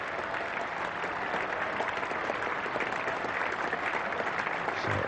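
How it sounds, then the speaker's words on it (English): Cricket crowd at a 1984 England versus Sri Lanka test match applauding as England avoid the follow-on, sustained dense clapping throughout, fairly distant and even. "So applause for England."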